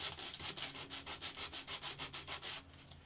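Sandpaper rubbing over wood veneer on the front of an antique parlour guitar, a steady rhythmic back-and-forth scratching of about a dozen quick strokes, close and fairly quiet.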